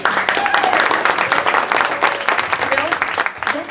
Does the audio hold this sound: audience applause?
yes